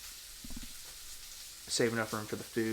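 Steak frying in a pan, a soft steady sizzle running under a person talking, with brief louder bursts at the start.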